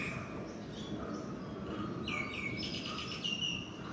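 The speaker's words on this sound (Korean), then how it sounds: "지저귀는 새소리들 들리죠?" Several birds chirp and tweet outdoors near a townhouse in Thailand, with faint high calls scattered over a soft, steady background hum and no talking.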